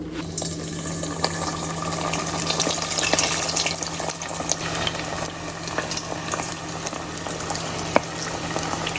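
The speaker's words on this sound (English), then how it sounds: "So now I'm about to drop the egg rolls in." A steady, dense sizzle and crackle of hot frying oil with lobster seafood egg rolls in it, continuous and close throughout with occasional sharper pops and a low background hum.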